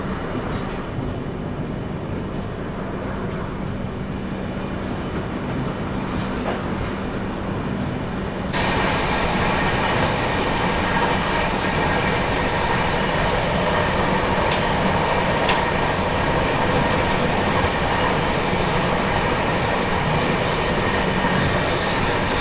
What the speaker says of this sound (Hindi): लगभग 25 मिनट की देरी से अभी अपनी ट्रेन निकल रही है भरतपुर जंक्शन से